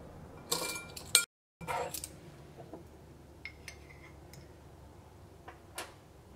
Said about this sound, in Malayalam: ഇതെല്ലാം കൂടിയിട്ട് നന്നായിട്ടൊന്ന് മിക്സ് ചെയ്യുക.